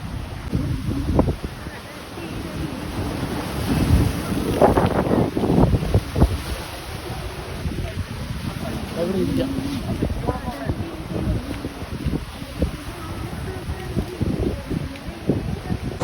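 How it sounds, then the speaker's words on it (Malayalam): Wind buffets the microphone and surf rolls in at Thirumullavaram beach, a steady broad roar with swelling waves, while people talk nearby. "ഞങ്ങളിതാ തിരുമുല്ലവാരം ബീച്ചിലെത്തിയിരിക്കുന്നു"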